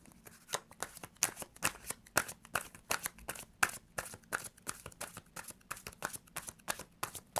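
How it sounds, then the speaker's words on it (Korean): Tarot cards are shuffled in a steady run of crisp riffling and slapping, rapid repeated strokes close up and clear with no talking. "셔플 하나 하고"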